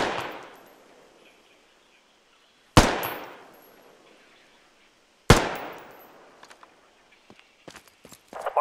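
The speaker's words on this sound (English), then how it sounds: "Automatic riflemen and machine gunners carry a machine gun like this to the field." Three sharp, loud bursts of machine gun fire in the video game Squad, each cracking then echoing away, followed by scattered small clicks and thuds.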